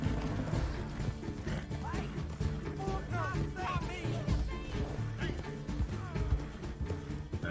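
A horse gallops in Red Dead Redemption 2 with rapid, continuous hoofbeats and a few whinnies, mixed with other game noise and voices throughout.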